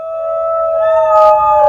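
New Guinea singing dog howling, a single loud, close, tonal wail with rich harmonics that holds steady and bends slightly upward toward its end.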